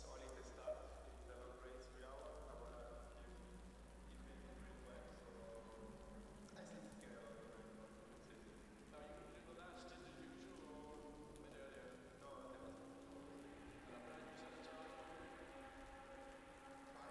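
Rain falls during a GT racing simulator race: a faint, steady hiss of rainfall blends with low engine drones while a voice talks over it.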